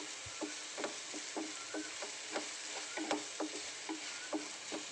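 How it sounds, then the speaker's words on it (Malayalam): Sliced onions and cumin sauté in hot oil for an eggplant curry, with a steady sizzle throughout. A utensil stirs the pan in an even, regular rhythm of scraping strokes, close and fairly quiet. "നമുക്ക് നന്നായി ഉള്ളി ഒന്ന് വഴന്ന് വരുന്നുണ്ട്."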